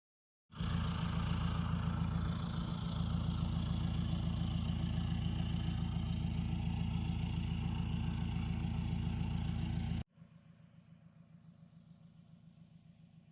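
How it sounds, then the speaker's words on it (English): A car travels along a remote gravel road in Gamkaskloof, its engine and road rumble steady and loud for about ten seconds before abruptly dropping to a quieter hum, with no talking. "As I was driving along"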